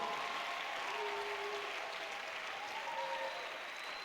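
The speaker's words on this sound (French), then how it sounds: "Applaudis le Seigneur des Seigneurs." A congregation at a prayer meeting applauds in a continuous, even wash of clapping, faint and somewhat distant, with no break through the short stretch.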